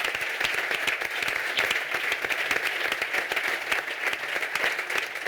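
A festival crowd claps in steady, dense applause throughout, with individual sharp hand claps standing out over the broad wash of sound.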